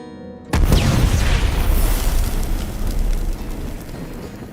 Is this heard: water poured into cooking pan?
no